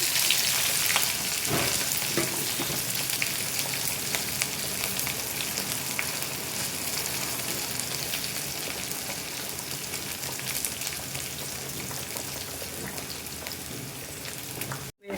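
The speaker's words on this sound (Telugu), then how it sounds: "తీసుకొని గంటతో తిప్పుకుంటూ ఫ్రై చేసుకోవాలి" Chopped onion and green chillies fry in a pan for a tomato and dried prawn curry, with a steady, close hissing sizzle that holds throughout while a spoon stirs now and then.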